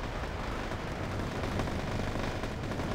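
Gunfire and artillery in the real-time war strategy game Wargame AirLand Battle during an infantry assault: a dense, continuous wash of distant shots and explosions blending into a steady roar, fairly faint, with no talk.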